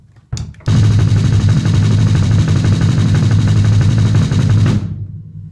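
Fast double bass drum sextuplets on a drum kit, a dense machine-gun-like stream of kick strokes played at a quicker tempo with no talk, starting after a brief tap and stopping abruptly.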